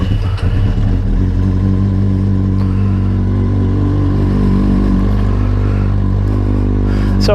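A reliable, comfortable motorcycle being ridden, its engine producing a close, loud, steady drone with a rich hum and occasional rises in revs, heard without talk.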